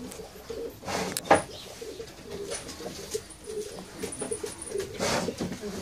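Pigeons coo softly in the background, with a sharp clatter early on and faint rustling throughout.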